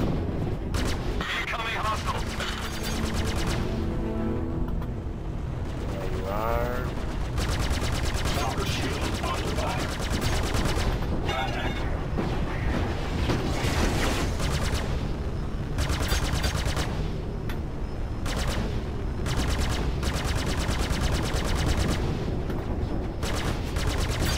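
Spaceship guns fire in a Star Citizen Vanduul swarm battle, a dense, continuous barrage of rapid blasts and booms with someone speaking over the gunfire throughout.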